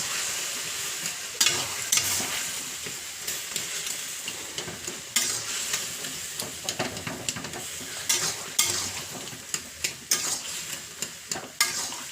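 Pressure-cooked spinach, taro, potato, eggplant and dal are tipped into a wok and stirred, giving a soft sizzle under repeated scraping and clinking of a spoon against the pan at an irregular rhythm.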